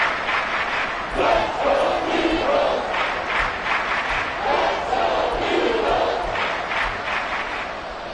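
A packed football stadium crowd roars continuously through the closing seconds of an NFL game, a dense, loud wall of cheering and yelling with surging swells, no commentary over it.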